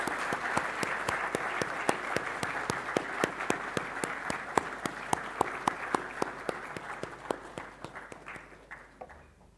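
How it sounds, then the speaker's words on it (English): An audience at a lecture-series event claps, starting as a busy wash of applause and settling into sharp, evenly spaced rhythmic claps that gradually fade out. "so that we can clap and acknowledge their contributions"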